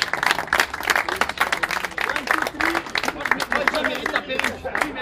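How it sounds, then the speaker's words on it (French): Applause from a crowd at a Grenoble Centaures football team rookie show, dense clapping throughout with voices and cheers mixed in. "On va applaudir Geoffrey, super"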